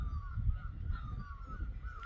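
A mountain bird known locally as the milli sings in spring in the hills, its repeated high calls sounding moderately close over a low rumbling background.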